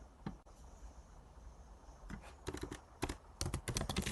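Keys clack on a computer keyboard in short irregular runs, sparse at first and then quicker, close and quiet against a faint hum.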